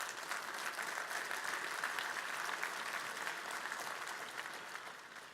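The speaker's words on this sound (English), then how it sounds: "Thank you for the applause, by the way." A large audience at a technical keynote conference applauds with a continuous wash of clapping, even and fairly distant, fading slightly toward the end.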